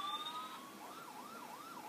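An ambulance siren in the video game GTA IV wails in a smooth, repeating rise and fall, fairly faint and steady with no talk over it.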